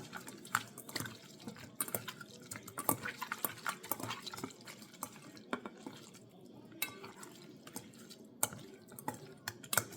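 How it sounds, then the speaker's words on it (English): Mustard being mixed into cleaned beef honeycomb tripe, making soft wet squelching and slapping sounds with light clicks against a bowl, continuous and close but quiet, with no talking. "I just mix the mustard up"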